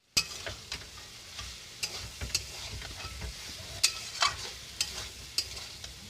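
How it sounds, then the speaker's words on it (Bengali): Soybeans and fried potatoes are stir-fried in spice masala, giving a soft sizzle under irregular sharp clinks and scrapes of a spatula against the pan, fairly quiet and close. "এবার দিয়ে দেবো ভেজে রাখা আলু, দিয়ে ভালো করে আমি কষব"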